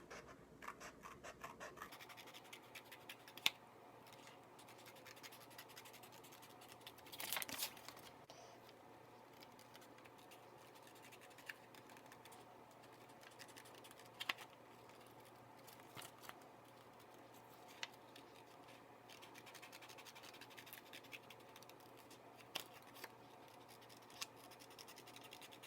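Scissors snipping freehand through paper taped onto black paper while cutting out a pop-up card design, giving faint scratchy cuts and occasional sharper snips at a steady, quiet pace with no talking.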